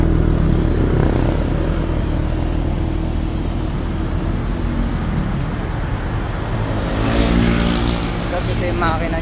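A Ford GT Carbon Series exhaust gives a loud, steady engine rumble, lifting slightly near the end, with a person talking over it throughout.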